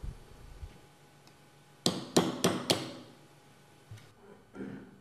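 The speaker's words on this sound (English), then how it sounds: "drive out the ejector roll pin." Roll pin punch struck with a hammer to drive an ejector roll pin out of a rifle bolt carrier: four quick, sharp metallic taps in a burst, close up, then a couple of fainter knocks.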